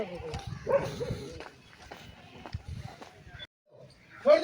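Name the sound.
army tracker dog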